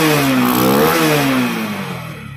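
A TVS Apache RTR motorcycle with a pickup problem is started and revved hard once, its engine note climbing then easing off as the sound fades toward the end, close and loud.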